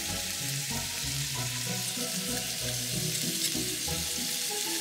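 Edamame steam-frying with a splash of sake on a cooking sheet in a frying pan gives a steady, close sizzle with soft crackle, running without pause and no voices.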